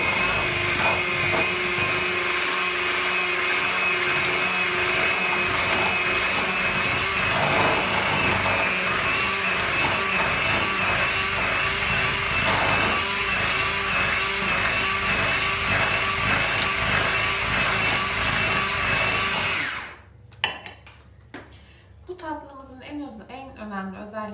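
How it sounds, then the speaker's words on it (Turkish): An electric mixer beats cream cheese until smooth for a San Sebastian cheesecake, a loud continuous whirring drone held close for about twenty seconds, then it stops and a few quieter clatters follow. "Şimdi peynirlerimi pürüzsüz bir hal alıncaya kadar karıştırmam gerekiyor."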